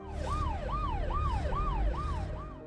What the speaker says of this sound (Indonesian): mendengar suara sirene polisi yang mendekat ke hanggar tersebut